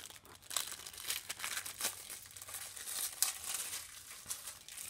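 Taped plastic packaging around a toy car being pulled and torn open, close crinkling and crackling in irregular bursts with sharp snaps of tape, no voices.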